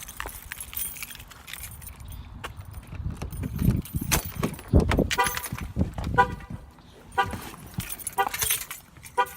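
Keys jangle in bursts while someone gets into a car, with door and seat handling noises close by and a brief faint voice.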